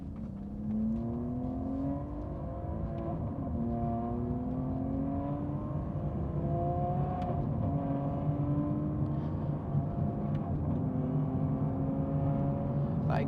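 A powerful V12 Aston Martin Vantage engine of just over 600 horsepower revs up through rising gears, its exhaust note climbing in pitch again and again over about thirteen seconds, loud and close, with no speech.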